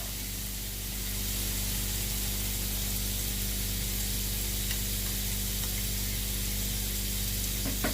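Plant-based Sunfed chicken searing in a pan over medium heat, a steady close hiss and sizzle holding evenly throughout with faint crackles and no voices.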